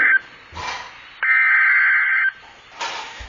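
An Emergency Alert System tone for a tornado warning sounds as a loud, steady electronic buzz lasting about a second, set between short bursts of static.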